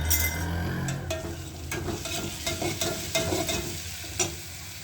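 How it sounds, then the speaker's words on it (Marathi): Onion sautés in hot oil with crushed garlic, chilli and salt while a spoon stirs it, a close, steady sizzle broken by repeated scraping strokes and light clinks against the pan. "आता कांद्याला चांगलं परतून घेऊया।"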